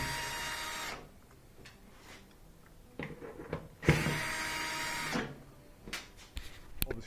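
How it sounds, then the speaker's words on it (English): A power driver backs out the perimeter screws of a Whirlpool washer panel in short whirring bursts, separated by quiet gaps with light clicks and handling noises, all fairly faint and close. "We're just going to pull out these perimeter screws."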